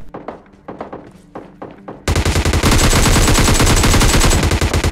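Gunfire in a battle royale mobile game: a few spaced shots with echoing thuds, then a sudden loud sustained burst of rapid automatic fire filling the rest.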